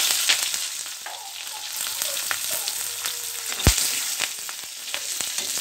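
Green chilies hiss and sizzle in hot oil with already fried potatoes, a steady close crackle with small spatters and one sharp knock of a spoon against the pan, no voices.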